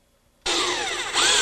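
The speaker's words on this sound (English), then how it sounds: "It has a 7/8 inch auger bit, and it runs at a low speed, so the bit kind of pulls itself through the wood" A low-speed drill driving a 7/8 inch auger bit bores through wooden house framing, starting abruptly after a brief quiet moment and grinding loudly and steadily to the end, with a slight rise in intensity near the finish.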